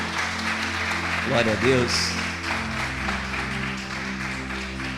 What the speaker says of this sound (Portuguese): dar uma salva de palmas para Jesus